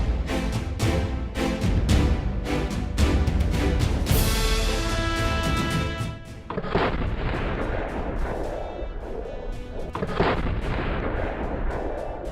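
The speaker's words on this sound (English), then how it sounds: "We're gonna shoot a Sherman tank into one of the American range systems." Sherman tank gun fired into an American Range Systems target, a dense barrage of heavy booming blasts and rapid impacts, loud and close, rolling on for the whole stretch without talk.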